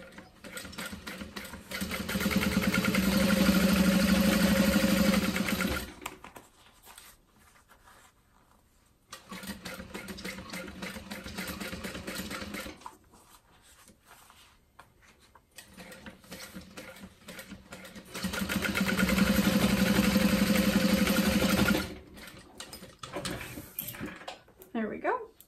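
A sewing machine stitches a tote bag seam and back stitches, running in steady buzzing bursts separated by pauses, two longer runs and a shorter one, up close with no talk.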